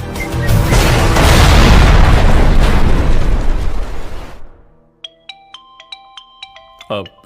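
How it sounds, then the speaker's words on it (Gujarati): A warehouse blast in an action film: a loud, sustained explosive roar that rumbles and fades over several seconds, followed by a tonal ringtone-like electronic melody. "ગોડાઉન બ્લાસ્ટ થઈ ગયું છે"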